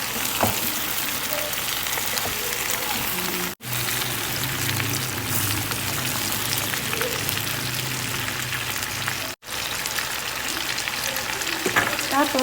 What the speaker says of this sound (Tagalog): It's time to put our shrimp. So, lagyan na natin ang ating hipon. Then, haluin natin.